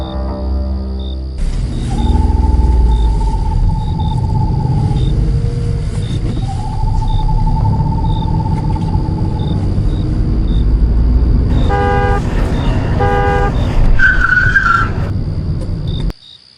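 A car pulls away in a hurry with its horn and skidding tyres: a steady low engine rumble, sustained horn-like tones, and a burst of sharp squeals near the end over a chirping, insect-like background.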